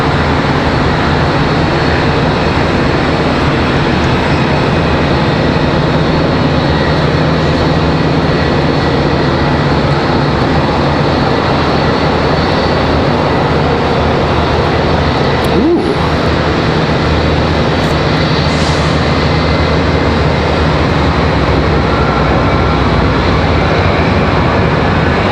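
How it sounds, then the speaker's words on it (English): An American Airlines Boeing 737-800 takes off at Charlotte Douglas airport, a steady, loud broadband jet roar that holds for the whole stretch with no voices. "Looks like American Airlines 2742 off to Chicago. Gonna be our next departure, 737-800"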